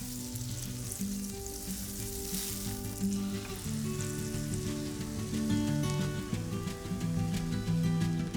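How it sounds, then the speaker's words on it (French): Crêpe batter frying in melted butter in a very hot pan gives a steady, close sizzle and crackle that swells slightly toward the end, with no voices. "On va aller directement cuire nos crêpes dans la poêle."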